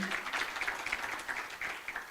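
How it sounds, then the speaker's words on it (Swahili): An audience at a staff SACCO gathering applauds a doctor with a dense, steady patter of many hands clapping, moderately loud throughout. "Makofi kwa daktari."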